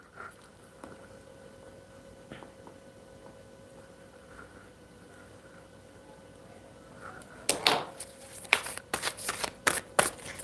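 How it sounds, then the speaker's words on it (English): Tarot cards being shuffled and pulled for a reading, quiet faint handling at first, then a run of crisp riffling shuffle bursts and card snaps close by, with no talking. "I'm going to pull cards"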